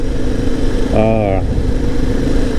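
Suzuki DR650 motorcycle engine on the road, a steady loud drone held throughout with a brief rising tonal whine midway, while someone talks over it.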